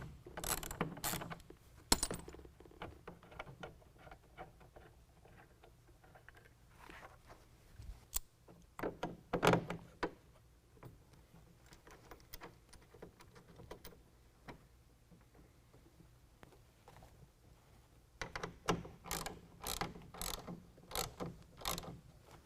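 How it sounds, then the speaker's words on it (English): Ratchet wrench loosening nuts on a clamp for a TruXedo Sentry CT tonneau cover on a 2019 Chevy GMC 1500 pickup, with rapid clicking bursts near the start and again near the end, and softer clinks and handling noise in between. "all you need is a 13mm wrench or ratchet"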